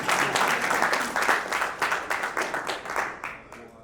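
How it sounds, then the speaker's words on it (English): Applause from the audience at a Lagos State Schools of Nursing alumni anniversary gathering in North America, a loud steady round of clapping with distinct hand claps, thinning toward the end. "A round of applause for Alaji."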